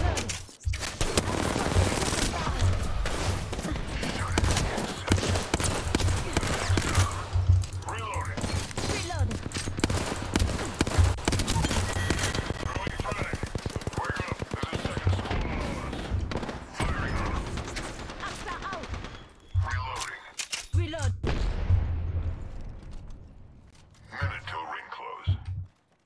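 Apex Legends gunfire comes in dense automatic bursts for most of the stretch, with pauses and then more shots near the end. Keyboard clicks and quiet talk sit under the shooting.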